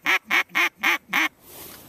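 A duck call is blown in five quick, evenly spaced nasal quacks, loud and close, followed by a brief fading tail and no talking.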